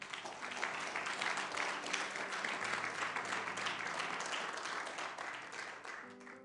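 A church congregation gives sustained applause for Christ, a dense, even roar of many hands clapping at once that holds steady for several seconds before easing off.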